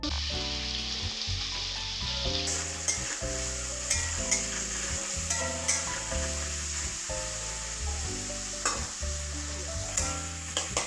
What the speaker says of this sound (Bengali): তেলটা গরম হয়ে গেছে, আমি পেঁয়াজটা ছেড়ে দিয়েছি।